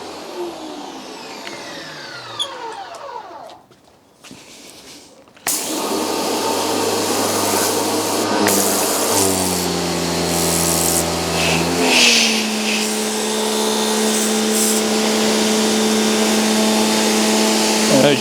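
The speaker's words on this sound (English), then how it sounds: "as soon as I let go of the trigger, the machine stops, and then when you pull it, it starts up automatically" A Parkside pressure washer from Lidl stays quiet, then starts up loudly with a steady motor drone and rising tonal whine as the trigger is pulled, running continuously close by.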